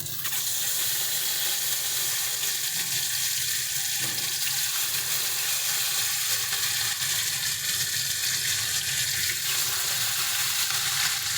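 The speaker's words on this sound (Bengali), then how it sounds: "তেল গরম হয়ে গেছে, এবার আমরা মাছগুলোকে ভেজে নেব।" Pieces of katla fish fry in hot mustard oil in a kadai, a dense, loud, steady hiss and sizzle that fills the whole stretch without letting up.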